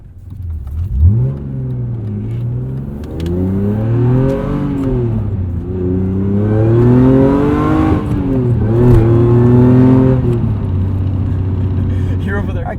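A supercharged 1998 E36 BMW M3 engine revs and pulls hard through rising and falling gears, loud and close from inside the cabin, with voices talking over parts of the run.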